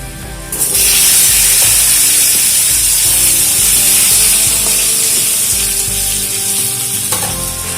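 Cut potatoes dropped into hot mustard oil with nigella seeds in a pan, bursting into loud, steady, close sizzling that continues throughout.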